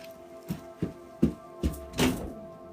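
Several knocks on a door during a livestream, five separate dull thuds spaced about half a second apart, fairly soft and with no talk over them.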